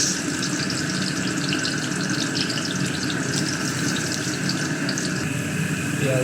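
Onion and green chilli fry in hot oil, giving a steady, dense sizzle that holds at an even level throughout, close and with no voices.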